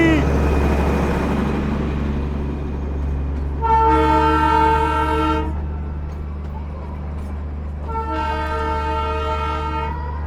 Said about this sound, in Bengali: এই হচ্ছে টয় ট্রেন